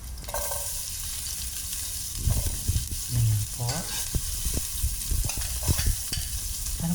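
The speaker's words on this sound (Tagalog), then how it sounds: "Gisa-gisa po tayo." Garlic and onion are sautéed in oil in a pan, with a steady close sizzle and repeated scraping and clinking of a spatula stirring against the pan.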